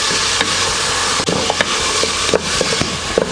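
Onions sautéing in a pan for kare-kare with beef tail, a steady close sizzle and frying hiss broken by occasional soft clicks and stirring taps, with no voices.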